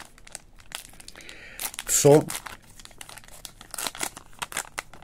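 Foil Panini FIFA 365 Adrenalyn XL 2024 trading card packs crinkle and rip open up close, a burst of crackly tearing with continued rustling while someone talks.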